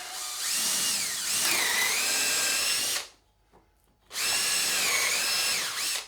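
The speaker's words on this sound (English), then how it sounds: "Easy enough to do with the drill by hand." A hand-held power drill whirs at high pitch, rising and falling in speed, stops for about a second, then spins up again close by, drilling for a camera gantry.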